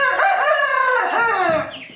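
A farmyard hen in Ordu, Turkey, lets out one loud, drawn-out call, close and clear, lasting about two seconds and tailing off at the end, with no talking.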